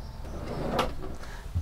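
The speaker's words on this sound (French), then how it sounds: "Deuxième tiroir pareil." A kitchen drawer in a 2022 Benimar Benivan 144 NK camper van slides open with a short rolling rush and then shuts with a soft thump at the end, close by.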